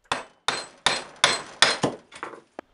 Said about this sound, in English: you can put the head and the handle over your vise and try and hammer it in